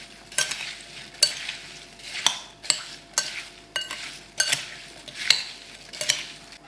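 A spoon stirs sliced apples with lemon juice and cane sugar in a bowl, giving a steady series of scraping, clinking strokes about every half second, close and fairly quiet.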